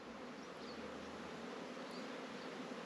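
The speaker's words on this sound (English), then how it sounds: "there's a lot of bees here" Dense, steady buzzing of many bees swarming around a cave entrance that drops straight into the ground, a continuous insect drone held at an even, moderate level throughout with no voices.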